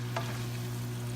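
Browned ground beef sizzles steadily in a pan, a constant close frying hiss with a brief stir near the start, with no voices.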